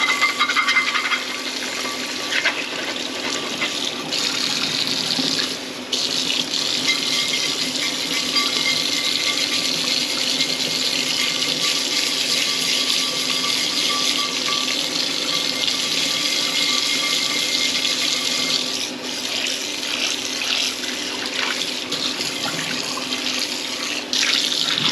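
Hot water runs steadily from a tap over a cast iron pan being cleaned, a continuous hissing splash with a few brief clinks of metal, no talking.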